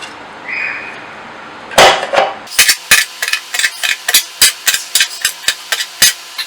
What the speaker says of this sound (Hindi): अब हम काट देंगे सब्ज़ मिर्च।